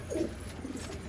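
Pigeons coo softly inside a loft of kept pigeons in Rohtak, a couple of low throaty calls over a murmuring background.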